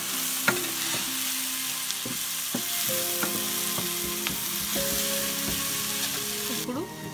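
Vegetables fry for pasta with chili powder and salt, a steady sizzle broken by a series of sharp clinks and scrapes as a utensil stirs the pan.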